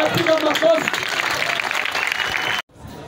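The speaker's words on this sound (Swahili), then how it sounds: "Tunapiga makofi." A church congregation bursts into dense, sustained clapping, loud and close, with voices mixed in, before it cuts off abruptly.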